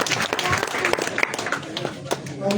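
A crowd applauds at a tape-ball cricket prize distribution ceremony, scattered uneven claps rising and falling under someone speaking.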